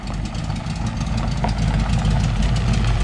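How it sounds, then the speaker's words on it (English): A Ford Mustang engine runs with a leaking header gasket, a loud, close, continuous low rumble with a rapid ticking pulse throughout and no speech. "Sounds like it's got a header gasket leak."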